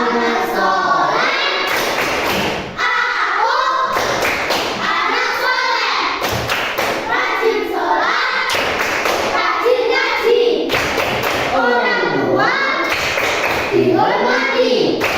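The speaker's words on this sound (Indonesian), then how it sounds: "Ayo tepuk anak soleh." Children perform the 'tepuk anak soleh' clapping chant in a group, rhythmic bursts of hand claps and thumps alternating with chanted phrases by young voices, repeating in short cycles.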